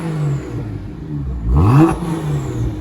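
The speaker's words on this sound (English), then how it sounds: "That's one good sounding twin turbo" A BMW N54 twin-turbo engine revs, starting from a low, steady idle and then surging in one short, rising throttle blip before settling back, close and loud with no talking.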